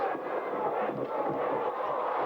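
An arena crowd at a 1987 Bulls versus Rockets basketball game roars after a John Paxson three-pointer, a loud, dense, sustained wall of cheering that holds steady throughout.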